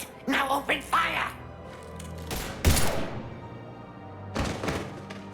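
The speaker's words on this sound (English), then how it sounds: "Now open fire!" Gunfire in Mass Effect 3 Legendary Edition on PC: short bursts of shots crack out among voices, with a louder volley midway and another cluster near the end.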